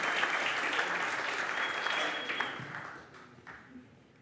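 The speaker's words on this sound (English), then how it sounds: "Say hi by clapping your hands." A conference crowd at an indie games event claps to greet a speaker: dense, lively applause that holds steady, then thins and tapers off over the last second.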